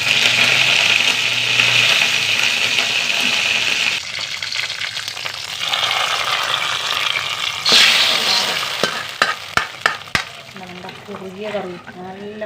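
Mustard seeds, green chili and curry leaves frying in hot oil in a Kerala kitchen, a loud steady sizzle that later thins into scattered sharp pops and crackles.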